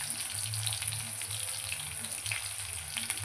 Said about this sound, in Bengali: এটা ভালো বাদামি করে ভাজতে হবে এটা।